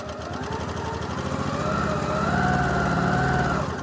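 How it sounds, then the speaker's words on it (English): A sewing machine stitches quilt fabric, running steadily with a rapid, rhythmic mechanical stitching hum, close and continuous throughout, rising slightly in intensity near the end. "I try and let the sewing machine do all the work for me by using the feed dogs"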